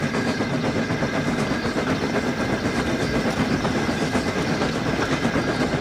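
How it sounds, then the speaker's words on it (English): A train in the Trainz video game pulls into a platform with coaches, rolling steadily with a continuous rumble and rhythmic clatter of wheels on rails, loud and close throughout. "come hooting and whistling to the platform with Edward's coaches"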